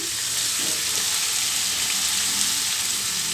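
Soaked prawns and tomato frying in a pan for chilli prawn fry give a steady, close, crackling sizzle that holds evenly throughout with no voices.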